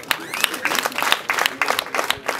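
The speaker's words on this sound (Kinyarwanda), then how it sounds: "amashyi" Applause from wedding guests at a Musanze celebration, a burst of scattered hand claps with an uneven rhythm, fairly close and steady over a couple of seconds.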